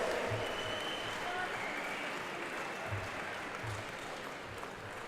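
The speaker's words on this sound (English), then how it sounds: "I have a big round of applause for our winner, Romeo Desha" Steady, dense applause from a crowd at the opening ceremony of the WAKO Junior and Cadet World Championships 2016, continuing evenly for several seconds and easing slightly toward the end.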